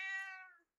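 A pet cat gives a single clear, fairly close meow that tails off after about half a second, followed by near silence.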